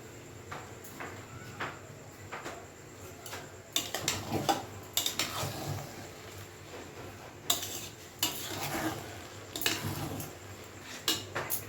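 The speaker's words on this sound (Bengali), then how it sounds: "একটু নাড়াচাড়া করার পরেই ঝুরঝুরে হয়ে যাবে।" A spoon stirs veg pulao with ghee in a pot, making scattered clinks and scrapes against the metal. The bursts come in irregular clusters, close and fairly quiet, with softer rustling between them.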